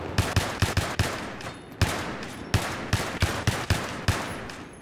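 Rapid semi-automatic SKS rifle shots in Battlefield 3, about a dozen sharp cracks fired in quick bursts and spaced groups, loud and close over a steady wash of battlefield ambience.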